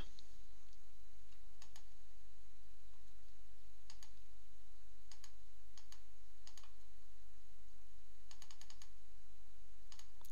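A title is typed on a computer keyboard in scattered bursts of quick key clicks over a low steady hum, with no voices.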